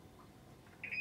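A quiet electronic alarm on a sailboat gives a short high beep near the end, faint over low background rumble.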